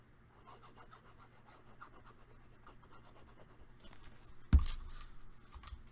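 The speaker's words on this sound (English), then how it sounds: "Burnish real well." Burnishing by hand: a faint, close run of quick rubbing strokes, with a brief louder knock and scrape near the end.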